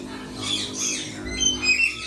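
A lorikeet in an aviary gives short, shrill squawks and chirps, fairly faint against a steady background hum.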